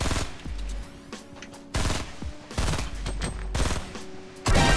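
Fortnite firefight with a shotgun involved: several loud, close bursts of gunfire come in clustered volleys, separated by short gaps.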